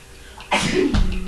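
A single sharp sneeze close by, a quick intake followed by a loud burst, then a short voiced tail.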